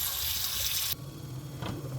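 Water runs into a sink where leaves are being washed with salt, a steady broadband splash that cuts off sharply partway through, followed by quieter sloshing and handling of the wet greens.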